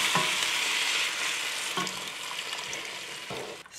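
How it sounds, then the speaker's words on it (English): A whisk stirs flour and clam juice in a hot pot of sautéed vegetables for New England clam chowder, a steady sizzle with a few louder scraping strokes against the pot. "So what I'm doing is I'm just whisking it a little bit because we want to make sure that there's no lumps or clumps of flour"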